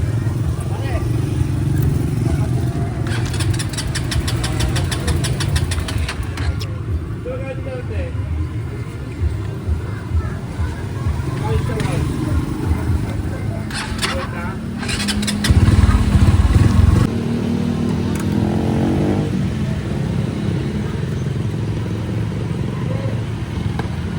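A motor tricycle's engine idles and revs in a steady low rumble, with rattling clatter and a louder surge partway through, while people talk nearby.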